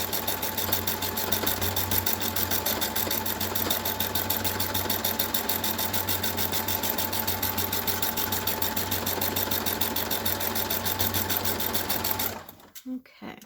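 A sewing machine stitches a chair cushion seam in a long, steady, close rapid whir that runs unbroken for most of the time, then stops abruptly near the end.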